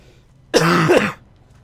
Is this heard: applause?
no